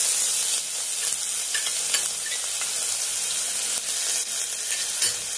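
Garlic dropped into hot oil in a pan fries with a loud, continuous close-up sizzle lasting the whole stretch, with faint crackles and no one talking.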